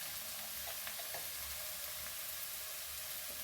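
Onions sautéing in a pan at a steady, faint sizzle, with occasional soft stirring clicks over a continuous hiss.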